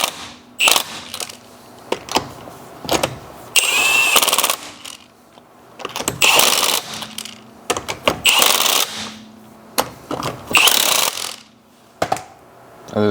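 An impact gun tightens wheel nuts in a star pattern on an IROC, firing in repeated loud, sharp rattling bursts, each a second or two long, separated by short pauses of handling in a garage.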